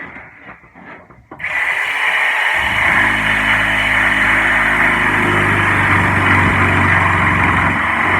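A power tool starts with a whine after a few clicks and then cuts continuously and loudly through boat-building material, a steady high-pitched buzz.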